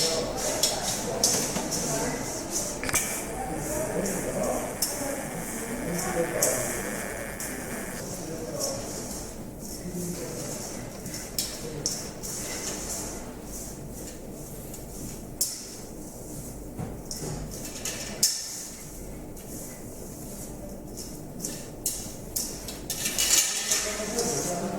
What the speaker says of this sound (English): Then you do a mixing of the ingredients.